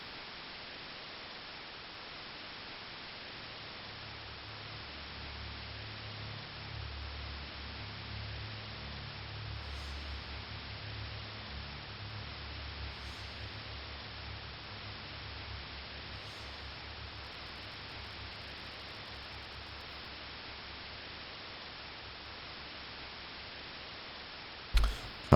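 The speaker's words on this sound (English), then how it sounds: "I only see white noise." Steady hissing white-noise static from Fear & Hunger 2: Termina, low and even for the full stretch, with faint ticks near the end and a sharp click at the very end.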